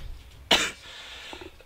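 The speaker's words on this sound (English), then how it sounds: "Sorry about the cough again" One sharp, loud cough bursts out close to the microphone, then fades into quiet room noise.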